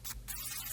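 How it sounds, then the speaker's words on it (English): A burst of white noise used as an effect in a dance music production, a bright airy hiss that briefly drops out, then swells back, quiet and on its own without voices. "I added a white noise."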